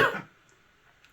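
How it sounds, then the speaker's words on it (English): A single short, harsh cough from a person in a home sewing room, loud and close at the start, followed by near silence. "Sorry, got a cough."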